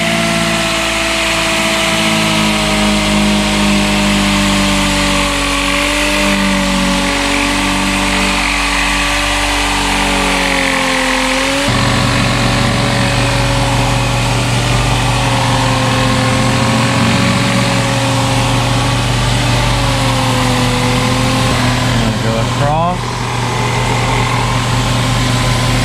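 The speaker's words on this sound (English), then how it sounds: "I generally like to sand on it for a few minutes, kind of just see how it's looking." A power sander wet-sands boat gelcoat with a soapy solution, giving a loud, continuous motorized drone that shifts pitch slightly as pressure changes.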